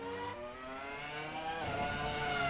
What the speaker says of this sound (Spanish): Es el primer V10 que escuchamos de esta tanda, manejado por Villeneuve